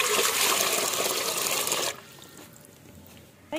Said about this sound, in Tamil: இட்லி பானை அந்த ஃபிஷ் வேகிற அளவுக்கு தண்ணி வைக்கணும்.